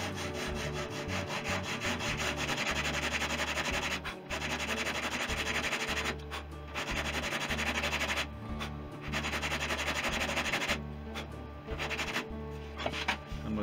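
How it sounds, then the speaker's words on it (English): Steady, rough back-and-forth rasping of a sanding block on wooden tail ribs of a kit plane, loud and close, with a few short pauses between strokes. "Draw that line across and then we'll sand it."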